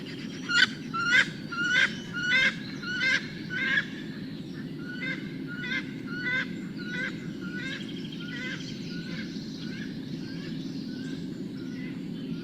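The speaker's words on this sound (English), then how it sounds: "she produces this loud rising oeek, oeek, especially when flushed and frightened" A series of loud, rising oeek calls from a female wood duck, repeated rhythmically at first, then fading into quieter, more distant repeated calls.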